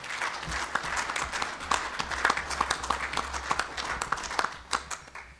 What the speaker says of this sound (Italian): un instancabile e infaticabile Paolo Pulina, a cui farei un applauso anche se non c'è.